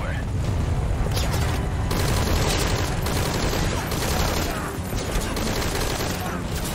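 Heavy gunfire from a firefight in the video game Metal Gear Solid V: Ground Zeroes, a dense, continuous barrage of loud shots and booms, with a voice speaking over it.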